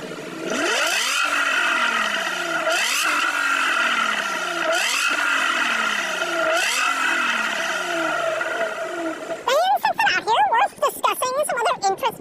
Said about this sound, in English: the other big benefit of a 6-liter naturally aspirated V12, it sounds pretty good